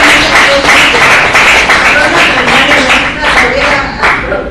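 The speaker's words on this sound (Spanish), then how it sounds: "Un aplauso y le damos." Audience clapping at the close of a talk on environmental regulations, loud and close, with rhythmic claps pulsing over a noisy room while voices murmur underneath.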